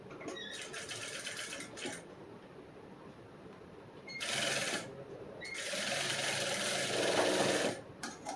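A sewing machine stitching blouse fabric for a back-open princess-cut blouse, running in several close bursts of rapid whirring with pauses between, the longest run near the end.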